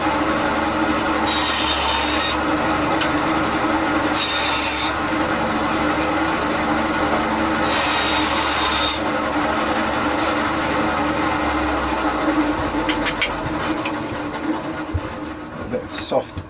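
A piece of soft timber is cut down to size during a guitar repair, giving a steady, close rasping sawing that runs continuously, with several brighter, harsher bursts of strokes along the way.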